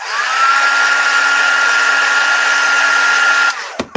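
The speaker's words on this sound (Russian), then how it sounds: "феном поддула и закрутила снова" A hair dryer blows steadily and loudly on craft foam while it is shaped for notebook decoration, a constant close whoosh with a faint whine that stops abruptly near the end, followed by a couple of brief handling knocks.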